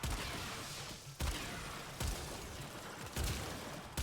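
Bursts of heavy gunfire from the shooter game Warframe, loud repeated blasts at roughly regular intervals with crackling decay between shots.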